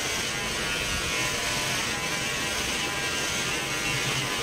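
Electric hair clippers buzz steadily and close at a barber salon while giving a short military-style haircut, a continuous whirring hum with no pauses and no talking.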